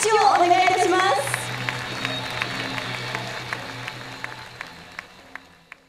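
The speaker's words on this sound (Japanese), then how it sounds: "今一度大きな拍手をお願いいたします" An audience claps for a film director and cast at a premiere screening stage greeting, dense applause that starts loud with a voice over it, then thins into a few scattered claps fading over several seconds.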